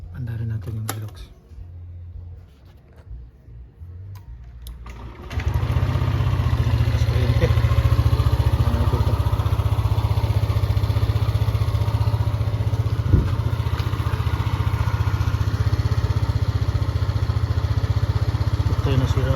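A Yamaha Aerox scooter engine is started: after about five seconds of quiet with faint clatter, the engine catches and settles into a steady, loud, close idling rumble with a rapid ticking texture.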